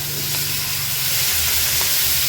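Mullet fish frying in a pan on a medium flame, a steady close hiss and sizzle of hot oil with a low hum beneath, continuous throughout.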